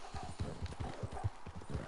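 Horse hooves clip-clopping in a Western video game, a steady rhythmic trot of hoof beats at close range with no talk over them.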